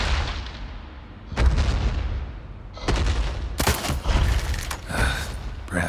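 Siege weapon in The Witcher 3 firing at a cyclops: several heavy booming blasts with rumbling decay, spaced a second or so apart, loud and close, with no talk.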